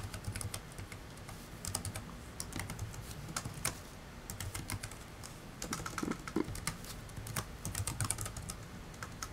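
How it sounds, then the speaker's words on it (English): Fingers tap login details on a computer keyboard in a steady, close stream of irregular keystrokes with brief pauses, clicks crisp against a low room hum, with no talking. "I'm going to just type this in."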